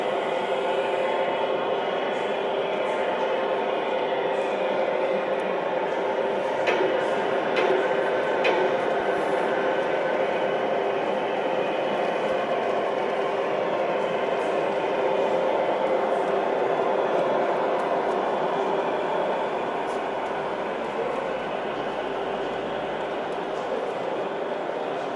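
A 30-year-old brass gauge 1 (1:32 scale) model locomotive running at a model railway meet, a loud, steady whirring hum of motor and wheels that continues unbroken throughout.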